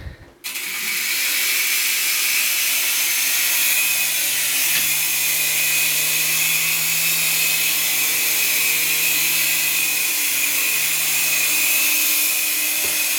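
A small S107 RC toy helicopter hovers indoors, its motor and rotors a steady, loud, close whine and whirr that starts abruptly and holds constant throughout.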